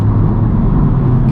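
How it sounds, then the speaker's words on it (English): Honda Civic Type R with a stock turbo engine accelerating, a loud, steady low engine rumble heard from close by with no voices. "this is a quick car. You can hear the blow-off sound stock."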